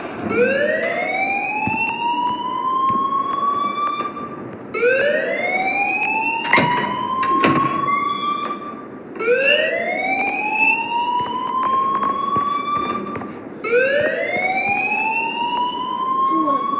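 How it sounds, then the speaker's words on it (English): A rising-and-falling siren-like alarm wails in the video game Life is Strange, four long sweeping cycles repeating steadily, loud and sustained, with brief clicks and clatter between them. "please turn off that alarm since that's your job"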